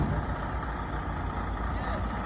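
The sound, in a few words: big old truck idling on the street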